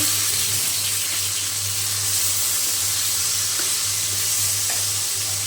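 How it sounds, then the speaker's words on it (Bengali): Rohu fish fries in hot oil in a pan, giving a loud, continuous hissing sizzle that stays steady throughout, with a low hum beneath. "এখন ভেজে নেব আমি ভালো করে।"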